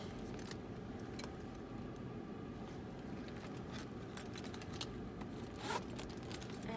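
A zipper on a thrifted black embossed purse with gold hardware, faint and brief metallic zip and jangle sounds over a quiet, steady room background.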